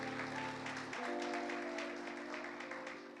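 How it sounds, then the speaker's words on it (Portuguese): Church congregation clapping for visiting guests during a service, a dense, steady round of applause that fades slightly toward the end, with sustained musical tones underneath. "Eu queria que toda a igreja desse uma salva de palmas para os nossos visitantes."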